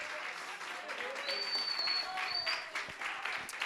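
A church congregation applauds during a celebration worship service, with sustained, fairly quiet clapping under voices and faint tones.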